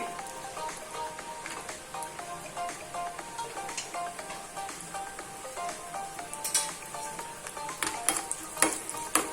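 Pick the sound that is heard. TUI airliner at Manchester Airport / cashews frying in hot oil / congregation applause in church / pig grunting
cashews frying in hot oil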